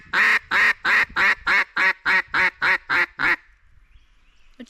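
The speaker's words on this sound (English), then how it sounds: "Let's just slide the whole O-ring up and let's blow it." A mallard duck call is blown with its O-ring slid all the way up, giving a loud, evenly spaced run of about eleven quacks, followed by a brief quiet tail.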